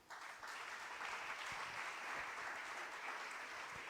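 A church congregation claps together in dense, sustained applause to acclaim Jesus. It starts abruptly and stays steady and even for several seconds, heard from within the room.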